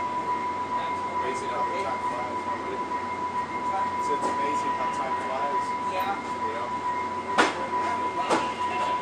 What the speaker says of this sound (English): Northbound train, doors are closing, please stand clear.